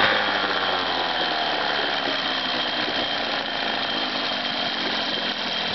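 A Johnson Evinrude 9.9/15 hp outboard motor runs steadily and loudly without pause, with a constant engine drone and a rattling, buzzy mechanical texture, close by and without talk.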